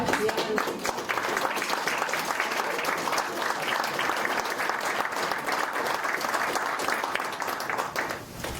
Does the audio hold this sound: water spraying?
no